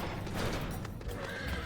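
A horse neighs loudly and close in Final Fantasy XIV, a single whinny over a short burst of hoof clatter inside a mine.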